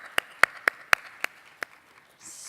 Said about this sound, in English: I think we can give a round of applause to all the presenters.